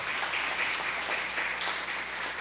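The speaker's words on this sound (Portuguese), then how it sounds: "Você pode aplaudir no nome de Jesus pela vida do Peterson, pela vida da Beatriz?" A church congregation applauds during a family worship service, a steady, even wash of clapping from many hands that runs through the whole short stretch, with no talk over it.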